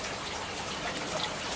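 Water pours steadily from four pipes into fish tanks in an aquaponic flood-and-drain system, a continuous close splashing gush with no pauses.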